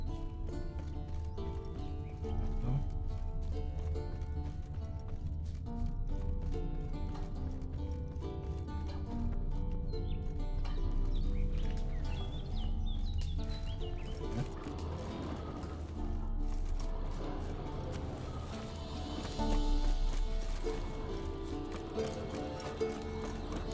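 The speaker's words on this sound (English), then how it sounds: "That's his horse. What's its name? Scorpion? Beautiful animal." Horse hooves clip-clop through a Witcher 3 game scene, a steady ongoing patter beneath a dense layer of music and mechanical game sounds, moderately loud and continuous.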